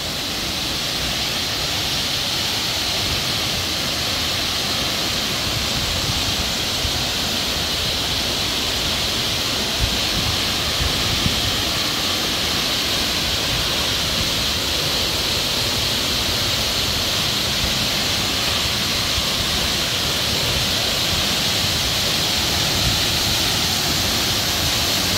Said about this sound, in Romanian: Aceasta este cascada Leke Leke.